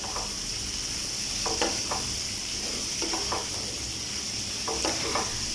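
Fried onion and chunky green capsicum for prawn chow mein stirred in a pan, with a steady oily sizzle underneath and several distinct scraping spatula strokes in small bursts, close and without talk.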